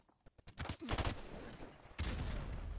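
MP5 submachine gun fire in Modern Warfare Remastered: a few isolated shots, then a rapid close burst followed by more scattered gunfire.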